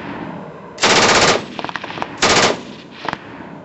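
Two long bursts of MG42 machine gun fire ring out close and loud, each lasting about half a second, with a short crackle of single shots between and after them.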